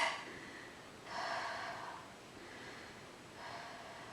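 Heavy breathing after a Pilates exercise: three or four slow, airy breaths rise and fall close by, fairly faint, with no talking.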